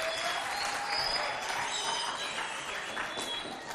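Audience applause at a school event, a steady wash of clapping from a crowd that holds at an even level throughout without letting up.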